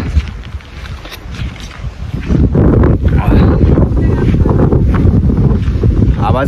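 Wind gusts outdoors, quiet at first and then roaring hard against the microphone as a loud, constant low rumble with a brief voice early on.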